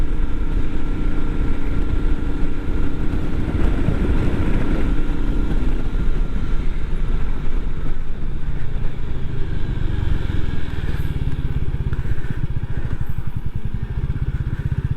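A Royal Enfield Meteor 350 motorcycle rides along the road, a steady, loud engine drone with wind rush that holds continuously without pause.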